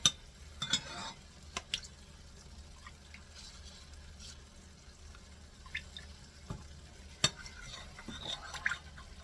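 Sour cream being stirred into sausage pasta in a pan: quiet, soft wet squelches and occasional sharp clicks of a utensil against the cookware, sparse and irregular with faint background hum, no talking.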